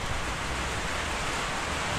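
Steady rain pours on a farm, a dense, even hiss filling the whole two seconds with no breaks and no voices.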